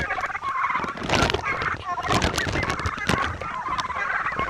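A flock of turkeys gobbles loudly and repeatedly, overlapping calls bursting one after another close by.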